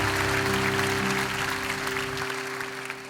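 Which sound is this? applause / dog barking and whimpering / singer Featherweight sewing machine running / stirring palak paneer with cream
applause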